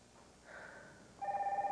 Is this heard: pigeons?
no